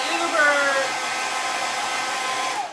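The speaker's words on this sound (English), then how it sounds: "let's hit this one with the blow dryer" A handheld blow dryer runs steadily at close range, a loud continuous whirring hum with a slight pitch wobble, drying paint on homemade craft decor before fading at the end.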